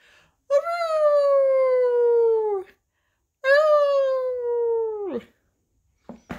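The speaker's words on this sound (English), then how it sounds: "strange howls echoed everywhere" Two long, wavering howls rise and slowly fall, each lasting a couple of seconds, separated by silence, with a faint reverberant tail.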